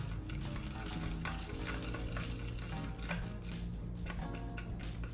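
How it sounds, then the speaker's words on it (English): Chopsticks stirring fresh pasta dough of flour and eggs in a well of flour, a steady soft scraping and stirring texture with faint clicks, close and continuous, with no talk. "I like to use chopsticks. And I'll just mix it within this pit that I made."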